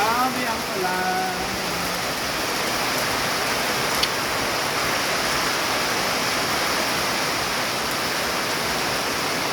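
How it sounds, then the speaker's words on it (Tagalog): Heavy rain pours in a dense, steady hiss that stays loud and unbroken throughout, with a voice speaking briefly near the start. "Lakas ang ulan, grabe."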